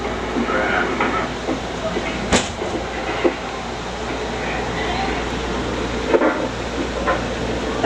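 An Amtrak train from Chicago to San Francisco rolls along, heard from inside the car as a steady low rumble with occasional sharp clicks and knocks, and voices talking quietly.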